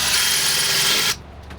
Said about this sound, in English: Let's see if this drill bit will do it.